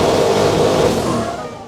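Porsche GT3 RS engine roaring loud and steady, close-miked from inside the engine bay, a dense sustained rumble that eases off slightly toward the end.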